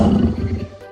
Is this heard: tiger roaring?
yes